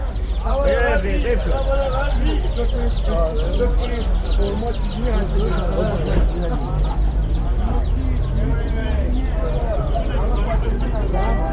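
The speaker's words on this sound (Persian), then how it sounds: "جوجه رنگی محلی" Dyed chicks at a weekly street market in Astaneh Ashrafieh, Gilan, Iran, cheep in a dense, overlapping chorus of high chirps, continuous and close, while people talk over the bustle.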